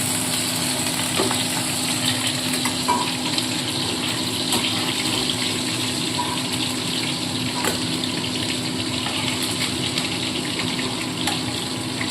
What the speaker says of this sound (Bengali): একবার উল্টে দেবো এই পিঠটাও একটু ভালো করে হালকাভাবে ভেজে নেবো